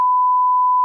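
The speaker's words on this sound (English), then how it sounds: "Oh, I'm gonna have to beep that out." A steady censor bleep, one continuous pure electronic tone held for nearly a second, loud and alone, covering a spoken name.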